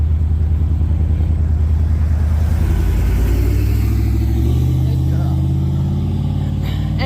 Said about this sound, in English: Here's a car coming behind.